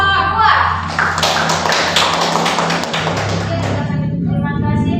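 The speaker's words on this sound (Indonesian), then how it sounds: "silakan beri aplaus untuk kelompok 2" Applause from a classroom audience for a student group that has just finished a presentation at a university in Aceh; dense, steady clapping of many hands fills the room throughout, with some voices mixed in.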